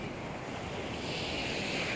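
Surf washes steadily onto the beach at Puerto Galera, a continuous broadband roar of waves with some wind noise against the microphone, no voices.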